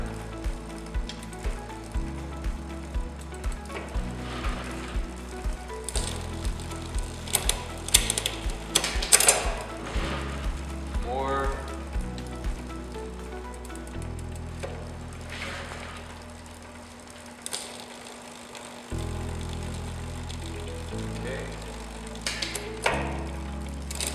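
Rear derailleur on a Vamoose e-bike shifting while the drivetrain is turned on a stand: a steady mechanical whirring with repeated ticking clicks from the chain and cogs, a few louder clacks, and a short quieter gap partway through.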